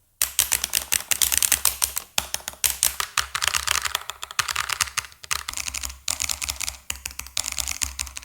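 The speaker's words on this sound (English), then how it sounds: "It is staggeringly loud." 8BitDo arcade controller buttons being hammered: rapid, loud, sharp plastic clicks in dense bursts with brief pauses, close and continuous, no voices.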